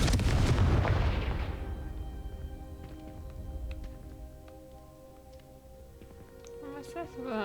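A Confringo fire spell cast in the video game Hogwarts Legacy bursts with a loud, booming blast at the start, then fades into a long, crackling decay with scattered small pops.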